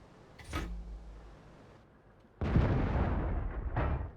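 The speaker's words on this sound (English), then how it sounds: "So as any 152mm derp cannon shooting HE, it has some degree of splash." In World of Tanks, a 152mm derp cannon on a T-49 light tank fires HE shells: a sharp boom and rumble, then a heavier, louder blast that rolls on for about two seconds.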